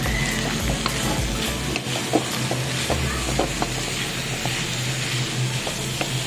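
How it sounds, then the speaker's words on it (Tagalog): Corned beef and green beans sizzle and fry in a pan while being stirred, a constant crackling hiss with scraping stirs and soft pops close by. "Pwede na natin ilagay ang ating Baguio beans."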